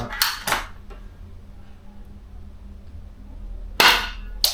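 Shots at targets in a shooting session, modelled on Yusuf Dikeç's style: two sharp reports in quick succession, a quiet gap, then a third loud crack, close and alone.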